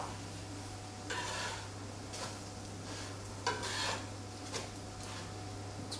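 Lentil burger patties sizzle in a frying pan under a steady hiss, with a few scraping bursts as a spatula slides beneath and flips them, close and moderately loud.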